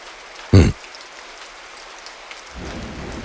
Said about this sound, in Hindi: ये बारिश रुक जाए?